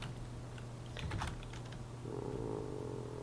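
Rapid keyboard typing, a short burst of clicking keystrokes up close, over a steady low hum.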